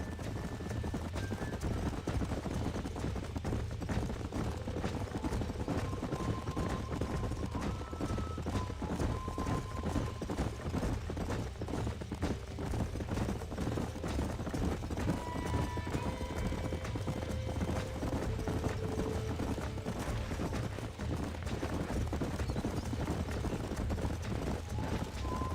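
Steady, rapid clip-clop of horse hooves in the video game Red Dead Redemption runs continuously throughout, with faint voices and occasional tones in the background.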